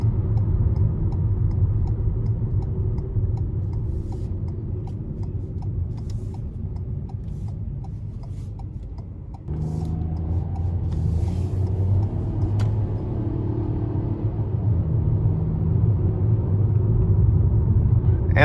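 Steady low road rumble and engine drone inside a 2021 Ford EcoSport S with a 6-speed transmission while driving, continuous and even, with a slight shift in tone partway through.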